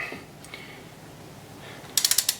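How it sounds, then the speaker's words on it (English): Torque wrench tightening cylinder head bolts on a 1990 C4 Corvette engine, heard as a close, sharp burst of five quick ratcheting clicks near the end after a quiet stretch. "So I'm going to start on number 1 here and just go to torquing them."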